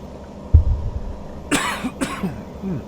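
A low microphone bump followed by a couple of close, harsh coughs from a man, then a brief throaty trailing sound.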